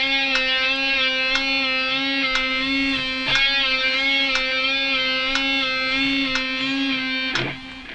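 Electric guitar held on a sustained note with vibrato, picked in a steady triplet rhythm, with repeated even attacks over about eight seconds, alone and without talk.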